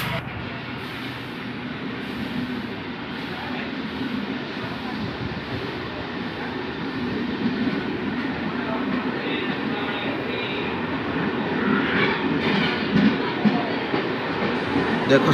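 A train rolls through a railway station on the Odisha–West Bengal border, with a steady rumble and rattle of wagons that swells toward the end and fills the whole stretch.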